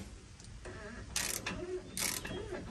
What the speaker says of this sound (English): now I'm gonna put my torque wrench on it